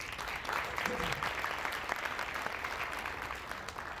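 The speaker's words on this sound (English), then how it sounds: "Come on up, Mary, give her a round of applause." An audience claps steadily at a talk about finding work in Canada with a foreign diploma, a dense, even wash of applause at moderate distance that holds for several seconds.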